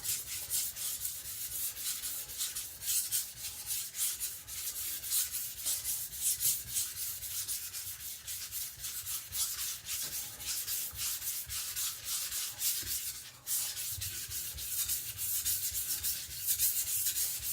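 Steady rhythmic scraping as an IKEA Chinese cleaver is pushed back and forth across a whetstone, close and continuous with a brief pause partway through.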